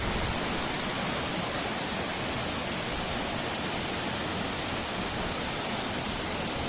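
Changey Waterfall in Kolakham, Kalimpong pours down as a dense, steady roar of rushing water, loud and unbroken, with no voices over it.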